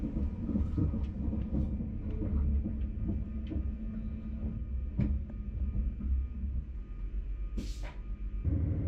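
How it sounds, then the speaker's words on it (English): A TransPennine Express train rumbles steadily with low mechanical throbbing and clanks, a brief hiss of brakes near the end as it rolls into Grimsby Town station, which has an all-over train shed. "Now arriving at Grimsby Town Station."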